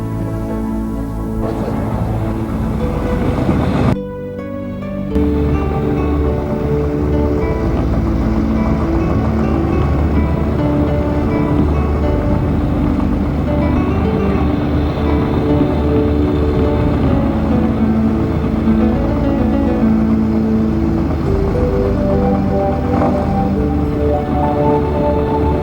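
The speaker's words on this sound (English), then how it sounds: "I'm going to leave you now with the sound of the Trident" A Triumph Trident motorcycle engine running steadily, a dense, continuous loud mechanical drone with rich low harmonics and a brief shift near the start, heard alone throughout.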